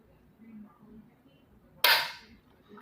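A single sharp shot from a Mossberg bolt-action rifle after its trigger is pulled, loud and close, with a quick decay over quiet background.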